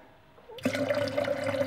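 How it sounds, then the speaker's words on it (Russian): Filtered water pouring into an electric kettle, a steady close splashing stream that starts abruptly after a faint moment and continues evenly to the end. "Наполняете чайник."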